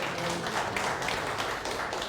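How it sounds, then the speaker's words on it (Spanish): An audience at a training seminar on municipal and regional government rules gives a soft, somewhat distant round of applause with a diffuse, even texture. "aplauso para el doctor Marco Tulio Gutiérrez"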